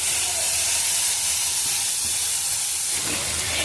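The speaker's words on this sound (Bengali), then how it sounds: "অন্তত মিডিয়াম টু লো ফ্লেমে 2 মিনিট একটুখানি ভেজে নিতে হবে, কষিয়ে নিতে হবে" Cumin and coriander powder frying in oil over a medium to low flame, giving a loud, continuous hiss and sizzle close by that holds steady from start to finish.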